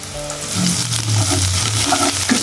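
Ground green chili hits a hot pan with a loud, dense sizzle and fry that holds steady throughout, close-up with faint stirring and no voices.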